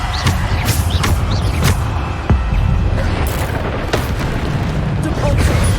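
Bombarda spell explosions go off in Hogwarts Legacy combat, a dense, loud stream of booms and popping bursts, with several sharper blasts standing out against heavy low rumble.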